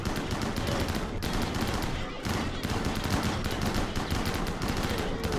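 Shotguns blasting in RimWorld during an explosives-only pigskin run, a relentless overlapping barrage of loud shots with brief gaps, sustained throughout at high intensity.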